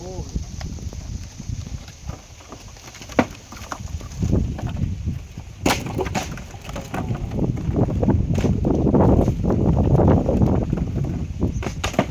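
Strong wind roars and buffets the microphone in loud gusts while riding on a truck loaded with firewood, swelling louder toward the end, with scattered thumps.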